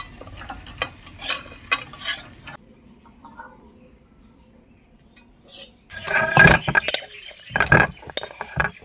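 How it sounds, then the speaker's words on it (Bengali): Vegetable stalks being stirred and fried in a pan, with spatula scrapes and clinks against the metal over a sizzle, pausing quietly for a few seconds before louder, busier stirring resumes close by. "ডাটা ভাজা হয়ে গেছে"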